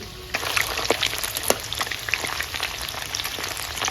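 Chicken lollipops frying in oil on a home stove, a dense crackling sizzle of popping bubbles that starts after a brief quiet moment and continues busily to the end, with no talking.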